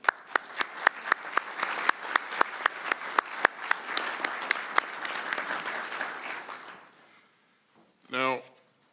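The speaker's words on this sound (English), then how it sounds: "Let's give them all a round of applause." An audience at a U.S. air base in Germany applauds, a steady wash of many hands clapping with a few sharp close claps on top, fading out after several seconds before a brief voice.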